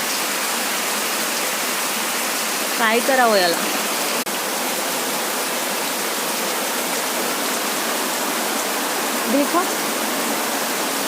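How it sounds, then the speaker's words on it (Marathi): Heavy, cloudburst-like rain pours down in Nanded district, a dense continuous hiss of water on surfaces that stays loud throughout while someone speaks briefly over it twice. "सकाळी बिलकुल पाऊस नव्हता आणि आता एवढा पाऊस पडतोय बघा"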